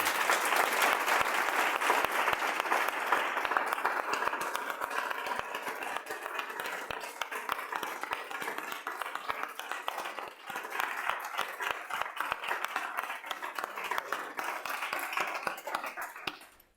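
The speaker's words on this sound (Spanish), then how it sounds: "al cual yo pido un fuertísimo aplauso para Fernando." Sustained audience applause at a Madrid colloquium honoring a school founder, a dense, loud wash of many hands clapping steadily for the whole stretch before fading out at the end.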